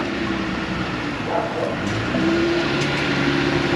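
A pickup truck pulls in after a run to Menards loaded with sand, its engine a steady, fairly loud rumble that swells slightly toward the end, with no talk over it.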